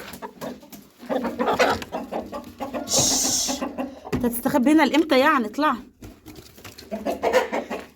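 Chickens cluck and squawk under a table indoors, sharp repeated calls rising and falling close by, while someone talks over them.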